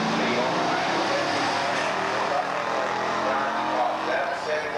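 A 1971 Mustang with a 351 and four-speed at a Beech Bend muscle car drag race, its engine a sustained loud roar with a faint voice in the background.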